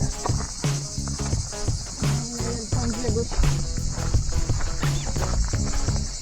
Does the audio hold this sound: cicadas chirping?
yes